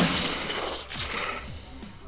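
Gunfire in the video game Shadowrun Returns, a dense burst of sharp shots and rattling impacts over a steady noisy backdrop, moderately loud with no voices heard.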